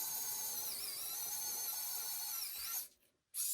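A small handheld drill whines at high pitch, boring through a piece of wood for about three seconds before cutting out briefly and starting again, close and fairly quiet.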